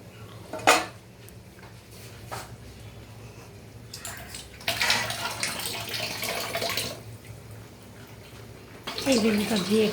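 Water splashed from a vessel into a pan of eggplant and hilsa fish curry, a short sizzling pour with clinks of a utensil against the pan, with kitchen clatter around it.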